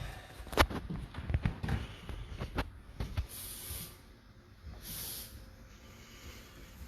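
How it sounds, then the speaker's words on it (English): Hairspray misted onto a woman's freshly cut short hairstyle in a salon, two brief airy hissing bursts following a few soft handling taps and rustles, close and moderately loud. "that's why I love hairspray"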